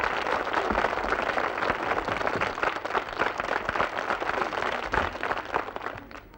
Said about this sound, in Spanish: recibe como adiós este merecido aplauso de admiración